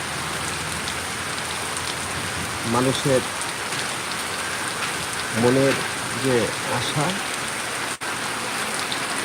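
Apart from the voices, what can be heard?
rain falling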